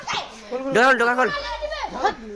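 A dog barks and whines in short, rising yelps during a Holi outing with friends, mixed in with people talking and shouting nearby.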